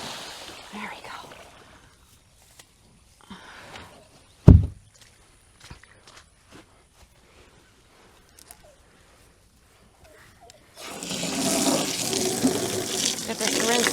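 Water running from a farm tap as a container is rinsed out, starting near the end as a steady, fairly loud broadband rush after quieter handling noises, a sharp knock and faint background talk.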